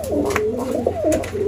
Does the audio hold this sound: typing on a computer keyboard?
no